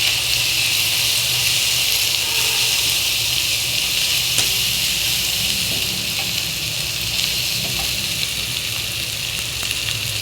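Turmeric and coriander powder fry in hot oil, a steady loud sizzle with crackling texture running evenly throughout, no voices.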